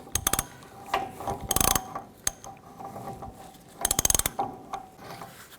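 Ratchet clicking from a torque wrench tightening the rear hub nut on a 1999-07 Chevy Silverado 2500, in several quick bursts of sharp metallic clicks separated by quieter pauses, close and clear with no talking.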